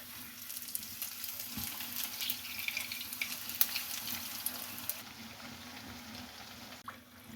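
Dahi bhalle lentil fritters fry in oil on a low flame with a steady soft sizzle and bubbling, punctuated by occasional light clinks and stirring, then quieting near the end.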